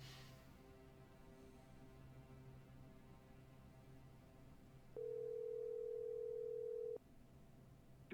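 Steady telephone dial tone holding for about two seconds before an automated voicemail system answers, sitting over a low background hum and clearly louder than the surroundings.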